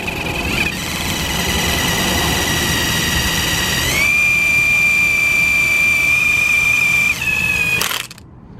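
An eraser wheel grinding off adhesive, a loud continuous high-pitched whine that shifts pitch slightly midway, then stops abruptly near the end.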